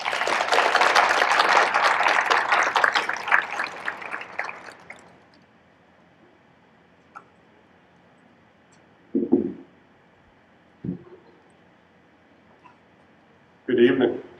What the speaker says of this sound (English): Please join me in welcoming Chancellor Fuller with a round of applause.